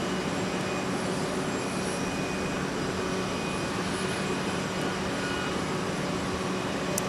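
A jet airliner takes off from runway 17 at Minneapolis–St. Paul airport, heard as a steady, even engine roar that stays constant throughout, at a moderate distance with no voices.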